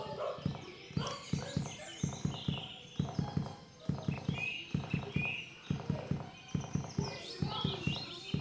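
A peacock Appaloosa's hooves in a horse game clip-clop in a steady, even walking rhythm, close and clear with faint ambient birdsong around them.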